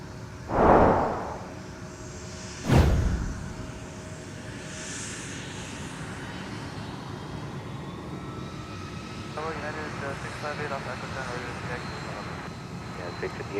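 MD-11 airliner arriving at Minneapolis–Saint Paul airport, a steady distant engine rumble under radio chatter and talk, with two sharp thumps near the start.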